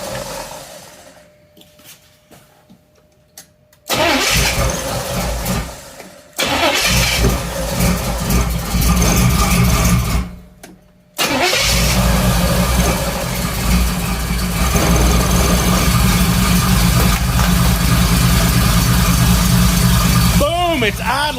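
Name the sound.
86 IROC Camaro engine starting and idling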